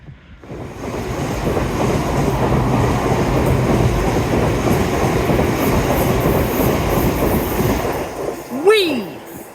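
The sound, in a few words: class 50 diesel locomotive train passing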